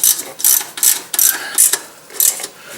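A ratchet tightens the transmission pan bolts on an MK4 VW Jetta, giving a close, loud rhythmic clicking in short repeated strokes.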